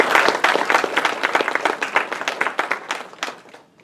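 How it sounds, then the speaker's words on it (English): Audience applause at a college recruitment seminar, a burst of quick hand claps that starts strong and thins out toward the end, heard alone with no talking. "a round of applause for Joe"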